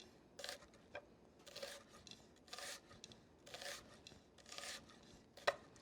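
A knife slices an onion along its natural ridges in a run of soft, rasping strokes, several separate passes with short pauses between, quiet and close with no talk.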